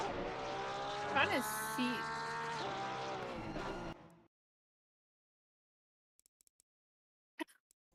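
A faster Audi race car closes in from behind in a racing video game, its loud harmonic engine whine rising and sweeping for about four seconds under brief talk, then cutting off to near silence with a few clicks.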